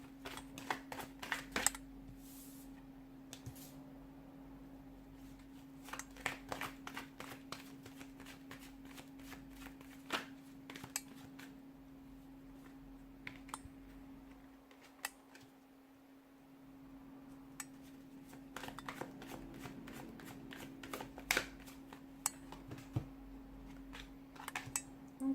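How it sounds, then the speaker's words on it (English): Tarot cards are shuffled by hand in rapid riffling bursts and sharp flicks, close and crisp, pausing briefly midway before resuming in quick repeated clusters. "give the cards a shuffle"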